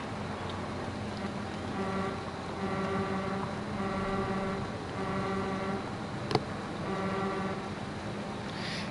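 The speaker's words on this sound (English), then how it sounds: "They seriously put a truck horn on this tractor?" A truck horn sounds from a tractor in a video game, several repeated steady honks in even bursts over an engine rumble, with one sharp click in between.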